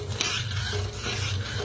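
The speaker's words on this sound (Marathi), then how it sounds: "आता साखर। तर आता हलवून घेऊया।" A spoon stirs sugar syrup in a pan for gulab jamun, a brief, close, gritty swirling scrape with a soft bubbling hiss underneath.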